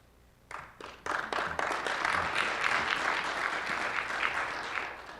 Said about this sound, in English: I hope y'all were clapping for Northwestern, not for Howard.